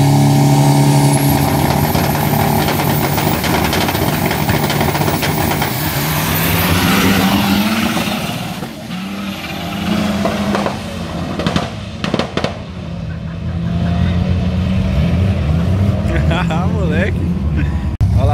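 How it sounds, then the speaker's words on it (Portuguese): A drag racing car does a tire burnout at a Sorocaba drag strip: a loud, sustained engine roar and tire screech fill the scene, then the noise dips and comes back up. Voices can be heard nearby over it. "Gosta de queimar pneu aqui, hein?"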